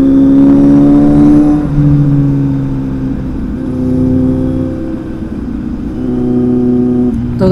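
A superbike engine revs loudly up close, its deep growl swelling and easing in continuous waves of throttle with no voices over it.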